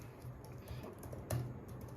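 Quick keystrokes on a computer keyboard during work-from-home data entry: a steady patter of soft, close clicks with one sharper key strike near the end, no voices.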